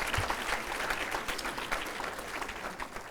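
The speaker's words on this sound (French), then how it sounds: "Vous pouvez encore les applaudir" A conference audience applauds French ministers at the opening of a European event, with dense, sustained clapping throughout that stays fairly loud and even from start to finish.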